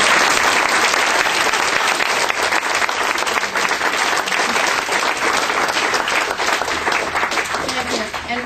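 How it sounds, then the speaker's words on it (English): Sustained, dense applause fills the room at a community forum on sustainability, a loud, even wash of many hands clapping for several seconds. "Could you applaud them all?"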